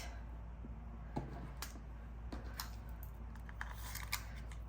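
Sharp scissor snips cutting beading wire for a necklace of ancient Roman glass heishi beads, several crisp clicks spaced across a quiet room, close and fairly soft.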